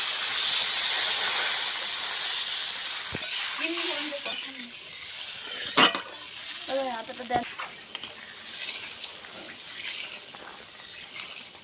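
Water poured onto fried spice paste in a pan for a fish curry with mango, bursting into a loud, hissing sizzle that gradually fades to a softer crackle, with brief scraping clatter and a voice speaking midway.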